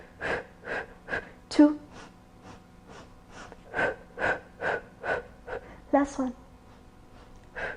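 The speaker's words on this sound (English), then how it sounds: "Inhale deeply through your nose and exhale deeply through your mouth" Deep breathing during a beginner Pilates workout: a steady run of audible inhales and exhales, close and fairly loud, with an instructor speaking briefly between breaths.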